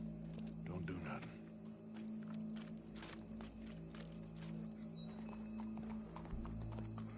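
Horse hooves clip-clop on the ground in Red Dead Redemption, irregular hoof strikes over steady background music and ambience, fairly quiet, with game characters talking over it.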